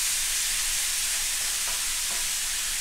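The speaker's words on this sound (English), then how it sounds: "let this thing saute it up just a little bit till it browns" Ground meat for picadillo browning in a pan over medium heat, a steady soft sizzle running throughout with a few faint stirring scrapes, no voices.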